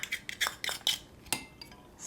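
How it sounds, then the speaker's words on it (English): Utensil clinks and scrapes against a bowl while yeast and inulin are stirred together for a keto cheddar and chive sandwich roll dough, a quick run of close, bright taps and scrapes with no talking. "Stir it around"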